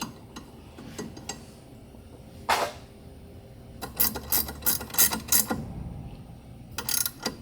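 A ratchet tightening the impeller bolts on a Rotax mini jet boat: short bursts of quick metallic clicking, a few isolated clicks, then several rapid clusters, close and fairly quiet.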